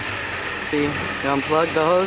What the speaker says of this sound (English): I'm going to have someone idling so the car doesn't die